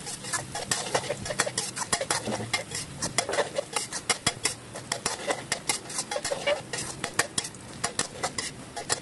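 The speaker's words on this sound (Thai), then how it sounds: "เราจะเจียวกระเทียมให้กระเทียมมีสีเหลืองๆแล้วก็ส่งกลิ่นหอม" Garlic fries in oil in a pan, a soft steady sizzle that runs under frequent clinks and scrapes of a utensil stirring against the metal.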